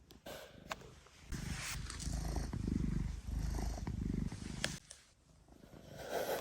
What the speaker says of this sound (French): on a un chat qui est en train de péter un câble et Minou ne...